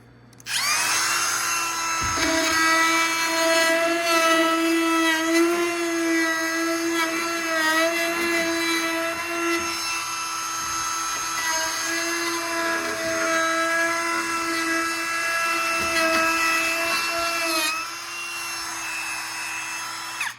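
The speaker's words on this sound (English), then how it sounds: "I'm going to one-hand router this thing." Handheld router rounding over the front edge of a workbench, making a loud, continuous high-pitched whine that holds steady for about twenty seconds with slight pitch wobbles as the cut moves along the wood, close and alone.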